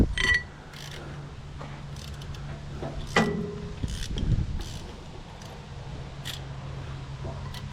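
A hand tool works a plug out of an old small engine, giving a few faint ratcheting clicks and scraping metallic knocks at close range, with a sharper clunk midway over a steady low hum.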